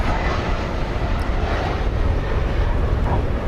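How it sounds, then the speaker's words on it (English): American Airlines Boeing 777, about 25 years old, arriving from Narita at DFW: a steady, loud broadband jet roar with heavy low rumble, holding constant throughout with no talk. "This will be a 25-year-old 777."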